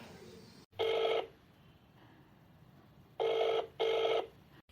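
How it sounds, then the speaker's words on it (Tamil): A telephone call rings out: one short ring burst, a pause, then a double ring pattern, each tone clear and fairly loud against a quiet background. "அர்ஜுன் தான் ஃபோன் பண்ணணும். அர்ஜுன் அத்தா, நீங்கள் தயவுசெய்து ஃபோன் எடுங்க."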